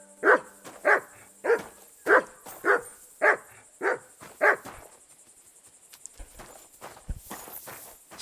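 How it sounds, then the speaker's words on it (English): A dog in Kingdom Come: Deliverance 2 barks eight times in a steady, evenly spaced run, close and clear, then goes quiet. Soft footsteps and faint game ambience carry on underneath. "Clever dog."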